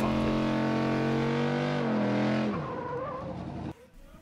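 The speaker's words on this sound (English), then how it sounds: "Pretty fun to go out on the burnout pad, do a whole bunch of donuts and figure eights" A mini trophy truck does donuts on a burnout pad at the SEMA show, its engine revving loudly with tires squealing before the revs drop away and the noise fades out.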